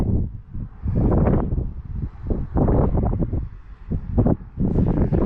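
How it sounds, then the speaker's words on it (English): Gusting wind buffets the microphone outdoors beside a vehicle, a loud, continuous low rumble that swells and dips in uneven bursts for several seconds, with no talking. "Get out of the wind for a minute."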